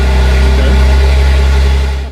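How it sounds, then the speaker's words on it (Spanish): A BMW M3 Competition fitted with an Akrapovic carbon exhaust runs loud and close, a steady deep engine drone that holds for about two seconds and then cuts off abruptly. "instalará las salidas de escape en carbono Akrapovic y finalmente arrancará el motor para"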